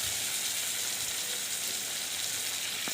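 Chopped small tomato goes into hot oil over a medium-low gas flame, giving a soft, steady sizzle that hisses evenly and fairly quietly throughout.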